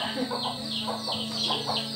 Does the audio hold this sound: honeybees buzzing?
no